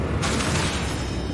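A Bombarda blasting spell from Hogwarts Legacy goes off with a sudden loud, broad burst that stays roaring through the rest of the moment, nearby and alone without talk.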